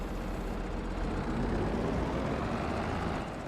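A tractor engine labours under heavy load in Farming Simulator 22, a continuous loud low rumble with a dense droning roar throughout.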